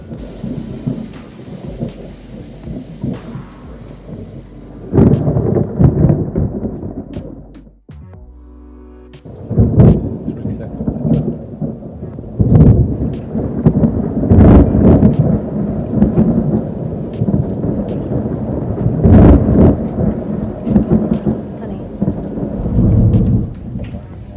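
Heavy thunder rumbles and cracks repeatedly over steady rain as lightning strikes the water in the next bay, heard from a boat, with loud booming strikes close overhead and a brief lull midway.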